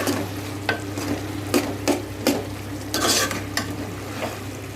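Karamani and prawn curry stirred in a frying pan, with a steady low sizzle under repeated sharp scrapes of a spoon against the pan at an uneven rhythm.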